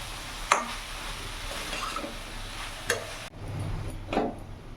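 Spoon stirring a ground paste of mustard, chilli, cumin and ginger into mixed vegetables with cauliflower leaves in a pan for chachchari, scraping clicks and soft squelches over a faint sizzle, a few sharper knocks near the pan.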